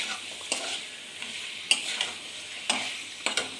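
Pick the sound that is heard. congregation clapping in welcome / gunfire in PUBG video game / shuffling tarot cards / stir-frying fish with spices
stir-frying fish with spices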